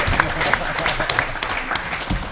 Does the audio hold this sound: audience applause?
yes